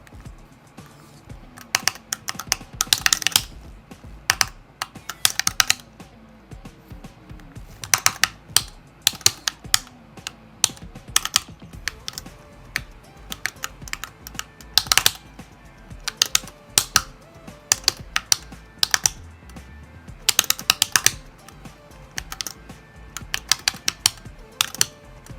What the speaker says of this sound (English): let me give you some MPress Nano keycap ASMR